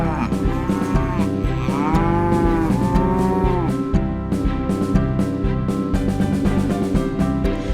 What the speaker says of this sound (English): Cow walks up with happy moo, she gets grass to chew on.